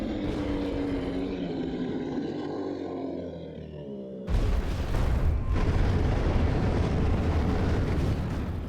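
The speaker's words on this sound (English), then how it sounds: "Oh no, a landslide." A landslide in the video game Metroid Prime Remastered: a low rumbling roar builds, then a sudden loud crash gives way to a dense, sustained thundering of tumbling rock, with no voices.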